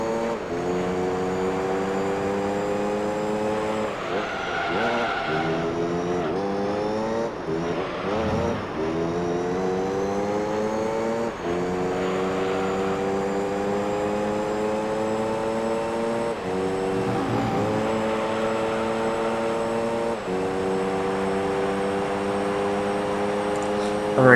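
Race cars roar through a lap in Gran Turismo 3, engine notes rising and falling steadily as they shift gears, loud and continuous with a talking voice faintly beneath.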